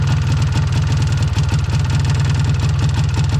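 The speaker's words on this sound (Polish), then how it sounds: "Ogólnie silniczek ładnie pracuje, nie?" An MZ ETZ 251 motorcycle engine, an aged bike with oil leaks and carburettor trouble, runs steadily at idle with an even, rapid two-stroke putter, close and alone.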